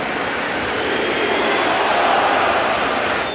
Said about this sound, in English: The crowd chanting, "We want Soto."